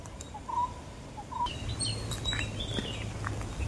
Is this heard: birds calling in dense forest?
yes